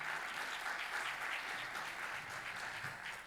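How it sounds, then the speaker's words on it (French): A conference audience at a hydrogen industry plenary session applauds a regional economic development leader, a steady, even wash of many hands clapping, faint and somewhat distant, with no talk over it. "Je vous laisse l'applaudir."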